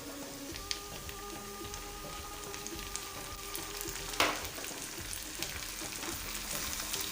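Onions and tomatoes frying in a pan for a quick breakfast omelette, a soft continuous sizzle with scattered crackles and one sharper clatter partway through.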